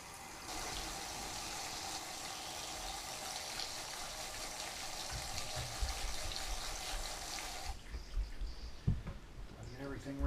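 Water gushes steadily through a screen while panning for gold in a rock-busting setup, a continuous close rush of rinsing that stops abruptly, leaving small clinks and handling noises.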